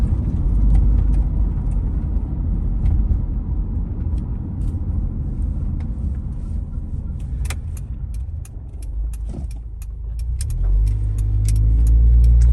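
A Honda CR-V on performance coilovers set to their stiffest setting drives along with a steady road rumble and engine drone, light rattles and clicks over bumps, and the engine swells toward the end.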